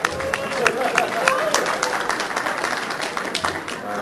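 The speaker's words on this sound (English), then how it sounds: "Yeah, you guys, you can clap." An audience claps at an awards ceremony, producing a run of scattered claps close by, mixed with crowd murmur and a voice talking over it.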